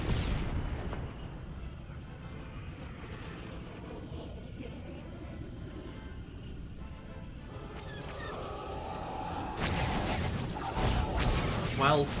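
Starship cannons fire in Star Wars: The Old Republic during a space battle at Hammer Station, rumbling bursts and booming blasts over a continuous roar, ending in a louder salvo, with a voice talking over it.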